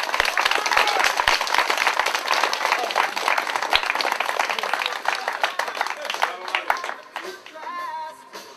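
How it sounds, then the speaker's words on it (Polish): Audience applause at an exhibition boxing bout during an 18th anniversary celebration. Dense, loud clapping from a crowd lasts about seven seconds, then thins out as a voice begins speaking near the end. "to wielkie brawa."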